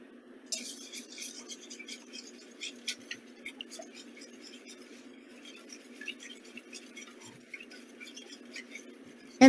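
A whisk clinks and scrapes quickly against a bowl while eggs are beaten, a fast irregular metallic rattle close to the mic and fairly quiet throughout.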